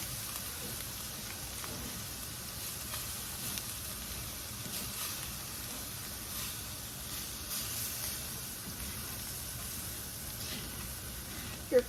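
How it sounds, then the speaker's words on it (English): Flour sizzling steadily as it browns in a pan for pantry-style gravy, a constant soft frying hiss with faint stirring scrapes and one small clack at the end, and no talking. "And then I fry the flour up till it gets brown."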